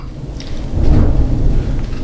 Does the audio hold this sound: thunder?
yes